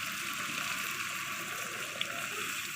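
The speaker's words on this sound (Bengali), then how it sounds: "এখন সিদ্ধর জন্য পানি ঢেলে দেব।" Water poured into a cooking pot of mutton (goat meat) and potatoes, a steady broad rushing wash with faint gurgling, continuous and close throughout.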